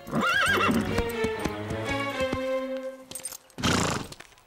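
Diablo, a cartoon horse, lets out a loud whinnying neigh followed by a few hoof clops and a snort, close and clear with no speech.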